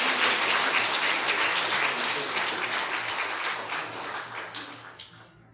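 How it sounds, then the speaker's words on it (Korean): Sustained applause from a sizable audience at a church education department graduation ceremony, steady at first, then tapering off with a few last isolated claps. "엘리 타카키, 우리 중등부 수료합니다. 우리 내용은 같습니다. 박수 부탁합니다."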